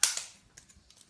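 A Nerf blaster fires a foam dart at a target: one sharp, close snap, then a second smaller pop and faint clicks trailing off.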